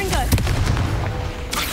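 In the Hogwarts Legacy video game, a Confringo blasting spell sets off a loud, dense burst of booming, crackling explosion noise that fills the whole moment. A voice can be heard mixed into the blast.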